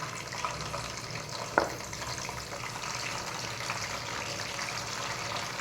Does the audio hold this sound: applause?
no